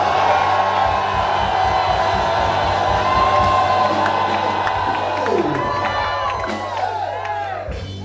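A church congregation shouting and cheering during a service, a loud, sustained roar of many voices with whoops and cries that gradually thins toward the end.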